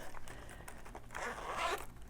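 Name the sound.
pencil case zipper being opened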